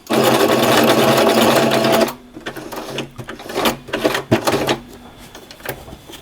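A sewing machine stitches a patch onto loose jersey fabric, running in a fast loud continuous burst for two seconds, then switching to short stop-start bursts of a few stitches at a time.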